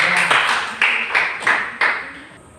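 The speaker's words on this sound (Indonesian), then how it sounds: "Tepuk tangan untuk Elisa dulu." A handful of sharp, separate claps ring out in a classroom before a student's presentation, about five distinct hits with short echoing tails, fairly loud and close.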